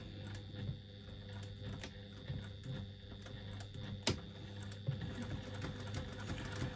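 A sewing machine stitches through thick layers of a bag handle with a quiet, even, rapid ticking and soft mechanical whir, broken by a few sharper clicks. No speech.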